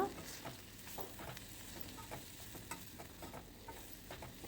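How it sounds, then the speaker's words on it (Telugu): Broad beans frying in a pan with coriander powder, chilli powder, turmeric and salt, a soft close sizzle broken by irregular scraping and clinking taps as the mixture is stirred. "ధనియాల పొడి కారపొడి పసుపు ఉప్పు వేసుకొని ఒకదాని తర్వాత ఒకటి మెల్లగా అలా అలా కలిపెట్టుకొని వేయించుకోవాలన్నమాట"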